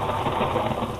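Heavy rain pours steadily as a sound effect in a spoken horror story, a dense continuous hiss of downpour with a low rumbling undertone, loud and unbroken for a brief moment.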